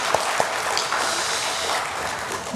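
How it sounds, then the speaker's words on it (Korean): A church congregation claps together in a sustained, even burst of applause that fills the room at steady loudness, with a few sharper claps standing out near the start. "우리의 마음을 담아서 한번 격려하겠습니다. 박수하겠습니다."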